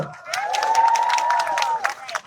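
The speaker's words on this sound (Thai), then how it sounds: "เอาปรบมือ" At a Move Forward Party campaign rally in Thailand, a crowd claps and cheers while one voice holds a long drawn-out shout above the noise, all close and lively for a couple of seconds.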